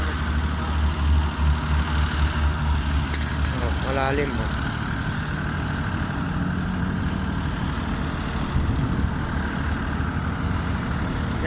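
Two large water pump engines rumble and drone steadily at close range, pumping out floodwater, with a person speaking briefly over the continuous mechanical noise.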